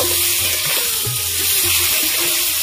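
Koi fish fry in a little oil with brinjal and are stirred, giving a loud, dense sizzle close up, broken by low clunks and scrapes of the spatula against the pan, with no voices.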